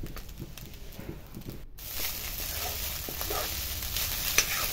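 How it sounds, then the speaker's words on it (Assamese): Food frying with salt and turmeric in a pan for an Assamese alkaline curry, a close sizzle with stirring clatter that swells louder after a brief cut, and no voices. "এইখিনি নিমখ হালধি দি অলপ সময় ভাজি দিলে"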